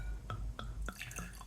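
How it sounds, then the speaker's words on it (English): Cider from Rull Orchard's Orchard Blend, a pét-nat, poured from a bottle: three sharp drips or glugs at steady intervals, then a brighter fizzy splash as the liquid fills the glass, close and fairly quiet. "Let's pour it out."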